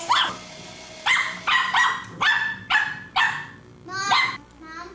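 A pet dog barks close by in a quick run of about six sharp barks at a steady rhythm, ending with a whiny, higher yelp.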